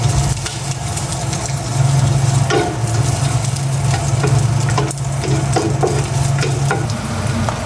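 Garlic frying loud and close in a pan for fried rice, a dense continuous sizzle with stirring scrapes and occasional utensil clicks, over a low steady hum.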